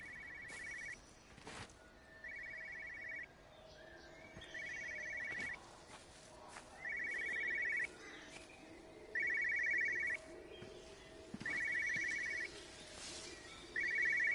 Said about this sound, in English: What is that phone ringing?